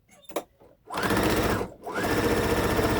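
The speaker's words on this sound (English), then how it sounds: "now we're going to sew up the side seam" A sewing machine stitches the side seam of tablecloth pants, starting with a brief click, then running in a steady whirring burst, pausing briefly and starting again, loud and close with no talking.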